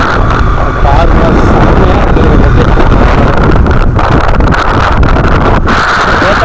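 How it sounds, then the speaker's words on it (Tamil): Strong wind roars steadily across the microphone on the coast at Manappad in Tamil Nadu, a loud, continuous buffeting rush that drowns the surroundings, with gusts swelling and dipping throughout. "ஏற்ற மாதிரி காற்று பயங்கரமாக அடிக்குது."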